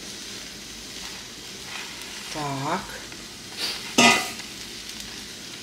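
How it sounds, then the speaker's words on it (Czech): Minced meat fries in hot oil in a pan with a steady close sizzle, and louder crackles break out as it lands and is stirred. A person speaks briefly over the frying. "dáme si na něj mletý maso."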